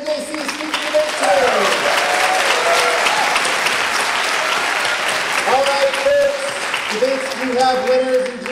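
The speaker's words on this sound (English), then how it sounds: "Can you give a round of applause for the entire NJC speaker debate?" An audience at a college speech night debate applauds the speakers, dense sustained clapping with a crowd murmur and a voice speaking over parts of it.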